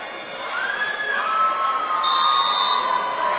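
A crowd cheering at a high school volleyball game at Wenatchee High School, rising shouts and whistles swelling loudly across the gym, with a commentator's voice heard faintly beneath.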